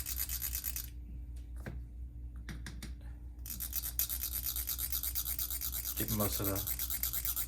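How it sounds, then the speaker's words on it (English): A brush sweeps glass pieces back and forth across a stencil for fused glass, giving a soft, continuous scratchy rubbing, close up, with a brief murmur of talk. "I just kind of go back and forth with a brush or whatever you have in hand."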